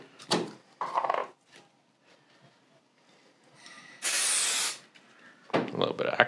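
Super glue activator is sprayed in one short, loud hissing burst during guitar building, set among quieter handling noises and brief sounds of work at the bench.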